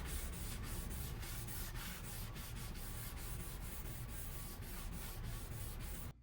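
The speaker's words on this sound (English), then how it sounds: "Once it was all dry, then I applied 3 coats of wipe-on polyurethane." A cloth wipes polyurethane finish onto a wooden coin display in quick, evenly repeated rubbing strokes, close and continuous with no talk.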